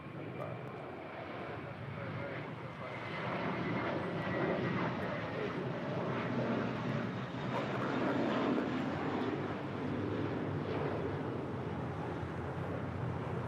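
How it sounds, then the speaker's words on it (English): An American Airlines A321 jet departs LAX for JFK, its engines producing a loud, steady roar that swells after a few seconds and holds, with some talk mixed underneath. "That is American 32 departing to JFK on an A321"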